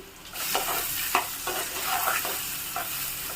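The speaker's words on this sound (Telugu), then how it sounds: "ఇప్పుడు వీటిని బాగా బ్రౌన్ కలర్లో వచ్చేంత వరకు వేయించుకోవాలి" Sliced onions and slit green chillies sizzle in a pan while being stirred, producing a steady crackle with a few scraping strokes of a spoon.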